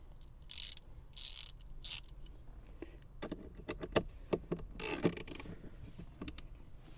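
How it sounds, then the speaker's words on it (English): Quiet clicking and ratcheting from a hand ratchet used on interior work in an old Metro car, bursts of rapid clicks mixed with small knocks and rustling, close and faint. "And now I need my ratchet"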